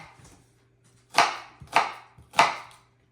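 Three crisp knife chops on a cutting board, each a sharp impact followed by a short decay, spaced about half a second apart after a quiet start, made while preparing food for Italian-style macaroni with a fairly sharp kitchen knife.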